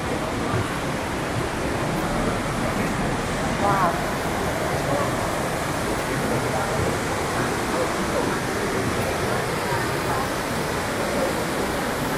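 Snowmelt river water at Tel Dan rushes hard in a continuous, even roar of flowing water that fills the whole stretch at a constant level.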